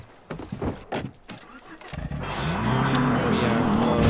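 A car in the video game Far Cry New Dawn starts up and its engine builds into a steady, rising drone after a few scattered clicks and knocks, while someone talks over it.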